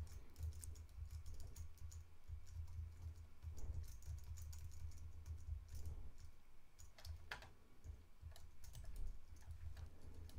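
Computer keyboard keys pressed while setting up an FC1 race track at Red Bull Ring, a steady run of quiet clicks and taps over a low constant hum, no voices.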